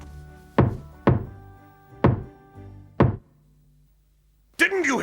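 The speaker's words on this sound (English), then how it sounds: "Stop banging on my door and come in, curse you!" Four heavy, evenly spaced knocks bang on a wooden door, loud and close with ringing decay, followed by a short silence and then a voice calling out.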